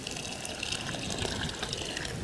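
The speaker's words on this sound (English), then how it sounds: "If I take this hot water from the house and pour it over their feed" Hot water from the house pours steadily over livestock feed during an extreme cold snap, a continuous close gushing and splashing that fills the whole stretch without pause or talk.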